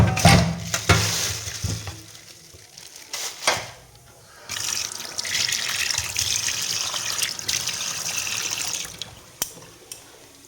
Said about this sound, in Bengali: এখন এগুলো সব ধুয়ে তারপরে রান্না করবো